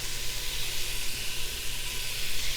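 Steady sizzling hiss of butter frying in a hot stock pot, a continuous crackly fizz at moderate volume with no talking.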